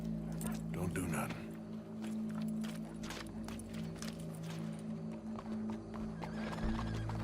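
Hooves clop along with an occasional whinny from horses in Red Dead Redemption 2, heard moderately close beside steady tonal hum and a few voices talking over the scene.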